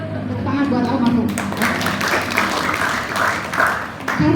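An audience claps together in tribute to the late Bang Ledo, a steady burst of applause at a school visit that sits under and mixes with ongoing talk, lasting a few seconds before fading.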